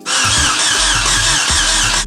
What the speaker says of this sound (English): So James, please go ahead and crank the car.